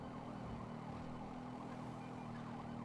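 Police sirens wailing in the game Grand Theft Auto V, heard steadily over a low vehicle engine drone, fairly faint and continuous.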